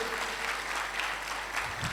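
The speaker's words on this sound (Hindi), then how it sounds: "ताली बजा दे जरा," A church congregation claps steadily together during a Hindi-language Christian sermon, a dense, even applause filling the room from start to finish.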